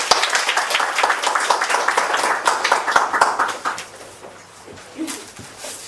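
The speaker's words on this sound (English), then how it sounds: "please help me to welcome Toastmaster Yoshie with big applause" Audience at a Toastmasters meeting applauds to welcome a speaker, with dense clapping filling the first three and a half seconds before thinning out to a few scattered claps and faint room noise.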